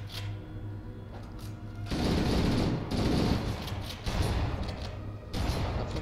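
Plasma pistol fire and combat in Halo: Combat Evolved, bursts of dense rapid gunfire and mechanical clatter over a steady game background, loud and continuous in stretches.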